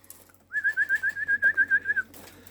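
Young racing pigeon calling in a rapid series of about fifteen short, even, high-pitched notes, close and clear against a quiet background.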